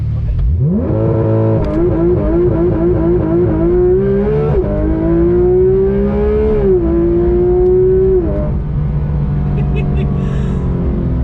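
A Porsche GT3 RS engine climbs from low to a sharp, loud rev, then pulls through several rising gears with brief dips between shifts before easing off, heard close and alone.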